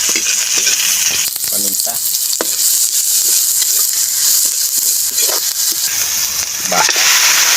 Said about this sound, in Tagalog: Magigisa na po tayo. Magsimula po tayo sa ating bawang.